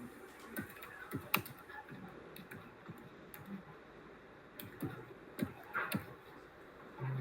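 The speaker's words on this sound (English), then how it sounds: "same I'm typing" Typing on a computer keyboard gives quiet, close clicks and key taps in irregular bursts, with a louder key press now and then.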